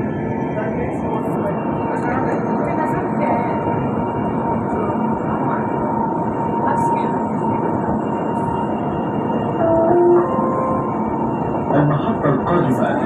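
Steady rumbling hum and rattle of a Dubai Metro train riding between stations, heard from inside the carriage, continuous and fairly loud with faint tonal whines and a slight rise near the end.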